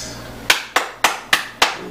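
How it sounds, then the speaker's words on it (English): A few slow, evenly spaced handclaps, five sharp close claps in a row, welcoming a podcast guest. "Y'all give a round of applause, big hands for Third World"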